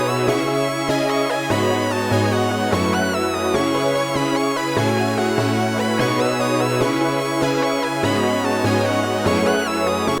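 A melodic rage beat melody made in FL Studio plays alone, led by a long sustained string lead over dense layered synths in a loud, continuous, repeating pattern.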